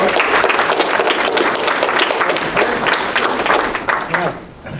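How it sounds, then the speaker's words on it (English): A large seminar audience at an SBREIA real estate investors' event claps loudly and steadily to welcome a guest speaker, the dense applause thinning out toward the end with some crowd voices mixed in. "So if everyone would please give Mr. Mark a huge round of applause."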